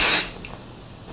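A short, loud burst of hairspray hisses from an aerosol can onto hair, lasting a fraction of a second before fading to quiet room tone.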